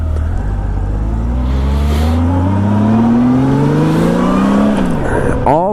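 A 1998 Honda Goldwing SE motorcycle engine hums smoothly while riding, a loud steady drone rising in pitch through acceleration then dropping at a gear change, with constant wind rush.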